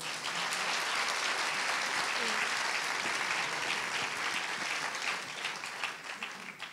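An audience at a conference debate claps at length, a broad, steady wash of many hands that stays full before thinning slightly near the end, heard from within the hall without talk over it.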